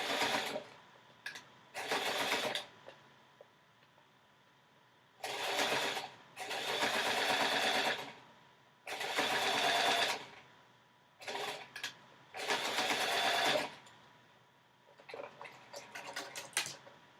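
A sewing machine stitches across the folded end of a girl's dress in several bursts of a few seconds each, separated by short quiet pauses and small clicks, close and clear.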